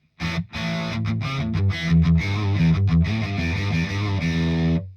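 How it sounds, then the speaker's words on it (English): An electric guitar played through a Walrus Audio Melee pedal on its distortion setting with the tone switch set bright gives a loud, saturated chugging riff of rhythmic palm-muted chords, then ends on a sustained ringing chord. "Now let's listen only the distortion so I can show you the tone switch."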